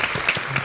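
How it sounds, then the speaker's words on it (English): Brief burst of applause for guests on a talk show, a short, fairly close patter of several people clapping. "Round of applause for the queens,"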